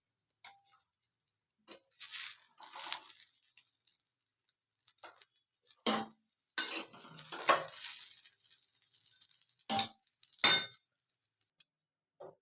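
Dry rice and lentils tipped into a pressure cooker of heating water for vegetable khichdi, making a few scattered clinks and rattling pours with quiet gaps between them.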